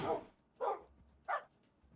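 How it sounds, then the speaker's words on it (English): Minecraft wolf from a video game barking three short sharp times at an even pace, close and fairly quiet, with no voices. "We've got wolves."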